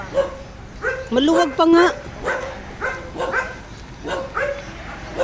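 Dogs bark and yip in short bursts at a roadside spot in Kupang, Antipolo, fairly near and loud, mixed in with people talking.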